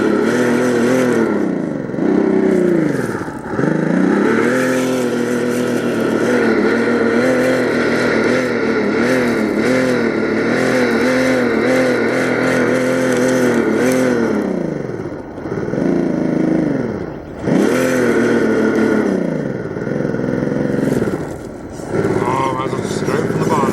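A car engine pulls hard at high speed in a high gear, a loud steady drone with rising and falling pitch sweeps as it accelerates and eases off, with a person talking over it.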